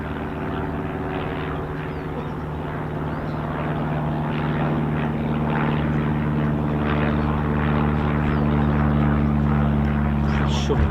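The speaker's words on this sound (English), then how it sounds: "Yeah, I can see it now, actually, the Embraer Phenom from RAF Cranwell." Embraer Phenom jet from RAF Cranwell on final approach during a military air exercise, a steady engine drone that slowly grows louder, with talk over it.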